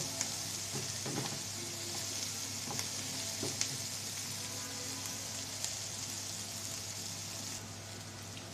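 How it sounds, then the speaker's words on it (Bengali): Chopped ingredients frying in a pan at home, a steady, quiet crackling sizzle with a few faint stirring knocks, close and even throughout, with no speech. "আমি একটু সবগুলো উপকরণ আমি একটু লাল লাল করে ভেজে নেব"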